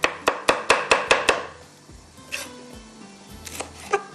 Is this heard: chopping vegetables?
yes